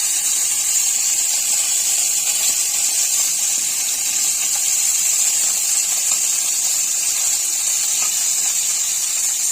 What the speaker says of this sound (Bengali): কড়াইতে এখন মাছগুলো দিয়ে দিলাম, এখন সুন্দর করে ভেজে নেব।